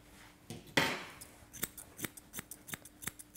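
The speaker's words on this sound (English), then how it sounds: "Just trim the side of her beard right up to her ear." Scissors snip through the beard fur of a Labradoodle during a professional grooming trim near the ear, giving about a dozen crisp, close metallic clicks in a quick irregular rhythm with no talk.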